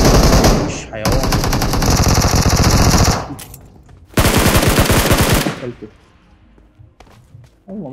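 Gunfire in the PUBG Mobile video game comes as loud, rapid automatic bursts: one long burst, then a second after a short pause, with quieter shots and thumps trailing off.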